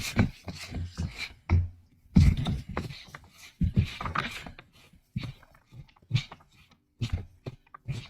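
A Nurge scroll frame for needlework being tightened, producing irregular clicks, creaks and knocks of moving mechanism parts, close and moderately loud. Faint speech may come through in places.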